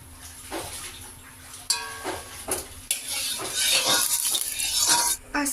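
Oil going into a hot kadai for chicken curry with potatoes, heard as clattering pan and utensil knocks with bursts of sizzling and hiss that swell and grow louder toward the end.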